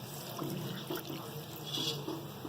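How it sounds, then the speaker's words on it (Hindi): Water pours into a cooking pan for liver (kaleji masala), a close, continuous splashing trickle with no voices. "ये हमने पानी डाल दिया"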